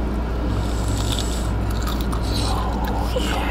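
Close chewing of Marrybrown salted egg fried chicken, a steady soft squishy mastication with faint crunchy bites, continuous and near, without talk.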